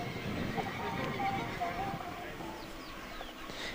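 A horse whinnies amid the hubbub of a youth equestrian championship, the neigh rising from a noisy background with nearby voices and possible hoof clatter throughout.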